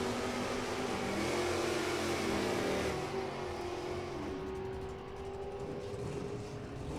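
Drag racing cars at an NHRA event, including a small block automatic Camaro and an 83 model, roar steadily as engines run and launch, a loud sustained rumble with a rising tone throughout.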